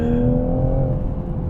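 2019 Toyota Supra GR sports car driven hard, its engine a steady loud droning roar heard from inside for a brief stretch with no talking.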